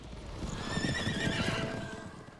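A horse in The Witcher 3 whinnies loudly with a long, wavering cry over steady clip-clopping hooves, set against a busy game soundscape.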